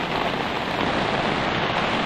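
Steady, dense rain falls during the rainy season, a continuous close hiss of drops with no pauses and no voices.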